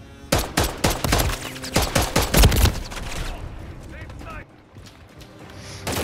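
Bursts of automatic gunfire from the video game Call of Duty Modern Warfare 3, a rapid run of loud close shots over the first three seconds, then quieter background rumble with a person speaking.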